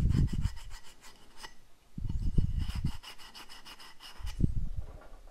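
Abrasive pad rubbing carbon deposits and oxidation off the exhaust valve of a Yamaha Fazer 1000 motorcycle, in three bursts of raspy back-and-forth scrubbing separated by short pauses, close up and with no talking.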